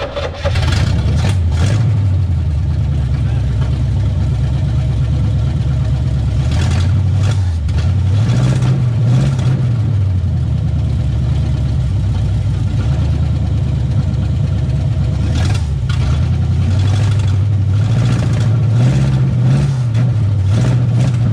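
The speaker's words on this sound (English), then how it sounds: "She's gonna hop in, crank it, see if it starts, see if it runs again." A 1988 Firechicken car engine cranking and running, loud and close, with a steady rough idle and a few swells in revs, continuous throughout; no talking.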